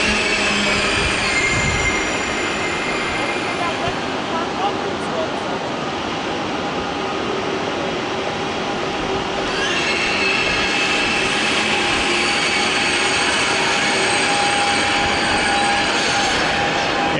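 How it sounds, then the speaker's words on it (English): A German ICE train pulls out of Köln Hauptbahnhof, rolling wheels, rumble and metallic squeal of wheels on rail in a big station, loud and continuous throughout. "I'm walking up to the other end of the platform to see this ICE train leave"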